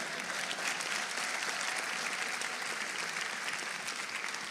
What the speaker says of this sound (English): So please clap for my husband so he knows that he did.